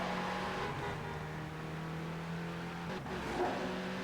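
Race car engines drone through a hectic two-lap video game race, a steady close whine of motors holding pitch with brief shifts near the end.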